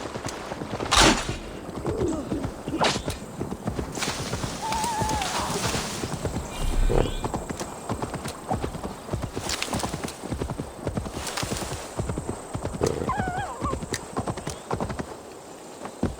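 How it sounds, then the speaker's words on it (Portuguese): In the video game Assassin's Creed Valhalla, a horse's hooves clip-clop in a busy, uneven rhythm at close range, broken by a couple of short neighs and whinnies. "Olha o cavalo dele aí."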